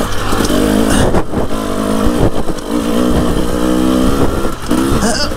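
A Husqvarna TE300i enduro motorcycle on a trail ride revs hard under throttle, a loud, close, continuous engine roar that rises and dips with brief breaks in the drone.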